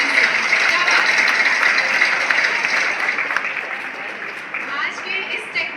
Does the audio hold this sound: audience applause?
yes